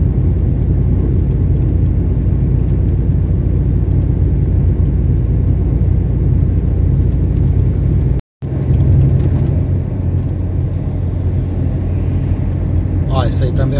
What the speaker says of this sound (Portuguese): Vem as viaturas aí, ó. Caracterizada, tem mais duas descaracterizadas atrás aqui de mim.